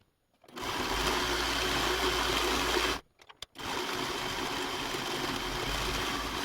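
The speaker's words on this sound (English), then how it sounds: "So my blade is not engaged right now, and we'll just serge around." A serger sewing machine stitches with its cutting blade disengaged, making a steady, close whirring hum that runs for about two and a half seconds, then breaks into a few short bursts before a long continuous run.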